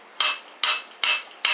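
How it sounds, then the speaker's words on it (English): A Buell Ulysses XB12X fork tube is swung like a hammer to knock out its bearing and fork seal: four sharp, close metallic knocks land at an even pace, each ringing briefly before the next. "now you're just going to use the fork like a hammer"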